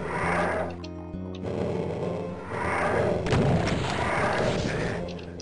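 Revenant monsters fire in a Doom map, heard as loud repeated booming blasts and thuds over dense, busy game noise.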